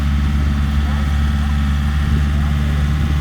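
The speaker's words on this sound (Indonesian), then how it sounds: "Jadi kita perlu traktor seperti ini." A tractor engine running on farmland being prepared for corn planting, a steady, loud low-pitched drone, close by and constant, with talk underneath.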